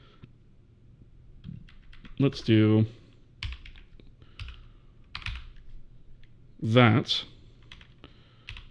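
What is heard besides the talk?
typing on a computer keyboard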